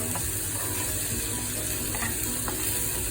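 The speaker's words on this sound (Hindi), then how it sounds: "अच्छे से मिक्स करेंगे" Ingredients being mixed in a bowl, a continuous close scraping and stirring with a wet, crackly texture and a few clicks, steady and loud with no talk.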